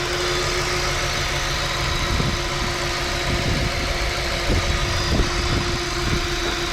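An Audi S6 V10 engine idles steadily after a repair, a loud, even mid-pitched rumble with a faint regular ticking pulse running through it, close by and continuous with no talk.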